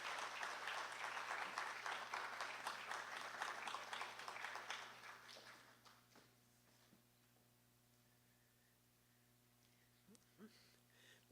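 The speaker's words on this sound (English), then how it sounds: "put our hands together and give a lusty round of applause for Sister Zakia Uzoma Wadada." Audience at a memorial lecture launch gives a round of applause, a dense clapping that is strong for several seconds and then fades away to near silence, with a faint hum beneath.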